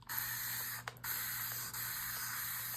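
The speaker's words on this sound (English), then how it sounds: "I love these continuous spray bottles." A spray bottle hisses out a steady, continuous mist, pausing briefly once before spraying on without a break.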